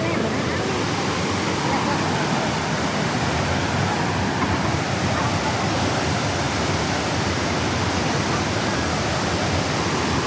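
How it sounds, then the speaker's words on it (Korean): Iguazu Falls thunders from the Brazilian side, a steady, loud, broadband roar of crashing water that fills the whole stretch without a break. "폭포물이 부딪히면서 이쪽으로 물이 많이 오잖아요"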